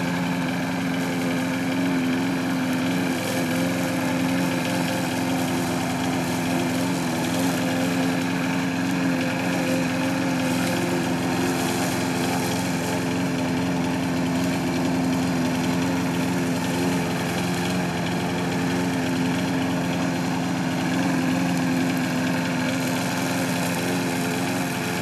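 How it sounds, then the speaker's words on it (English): A new lawn mower's small engine runs without a break, a steady high-pitched buzzing drone with a constant tone and no speech over it. "Alright, I got a new lawnmower."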